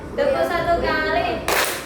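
A group of students claps together in a classroom clapping game, with a burst of applause-like clapping near the end. Voices are heard talking underneath.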